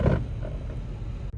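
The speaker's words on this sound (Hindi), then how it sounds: "हैंड ब्रेक प्रेस करो।" A manual car's hand brake is pulled up, giving a short close creaking mechanical ratchet sound that ends abruptly.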